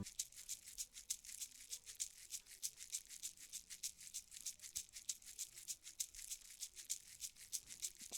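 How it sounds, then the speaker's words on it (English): A shaker sample for an Afrobeat loops in a fast, even rhythm of crisp, bright rattling strokes, quiet and dry with nothing else heard. "So this is another shaker I have right here."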